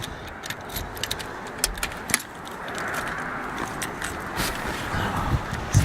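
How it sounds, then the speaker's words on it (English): Keys jangle and clink in quick, irregular bursts as they are pulled out of a coat pocket by cold hands outdoors, over a low background hum. "I'm trying to get my keys out of my pocket."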